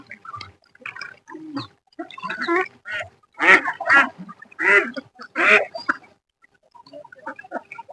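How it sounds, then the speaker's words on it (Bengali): A flock of ducks crowded on a pond quacks in loud, overlapping bursts, nasal calls clustered close together with short pauses between them. "আমাদের সামনের পুকুরে কতগুলো হাঁস দেখেন, হাঁসে পুরা পুকুর ভরে গেছে"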